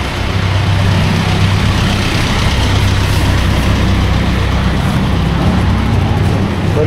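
Motorcycle engine running at a steady idle, a loud continuous low rumble close by with a constant hum throughout and no speech over it.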